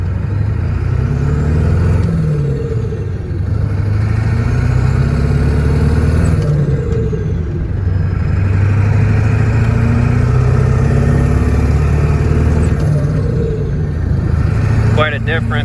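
A ZF5-equipped truck in four-wheel drive revs past high idle, its engine a loud, steady drone that swells and eases in long waves, with a person talking over it.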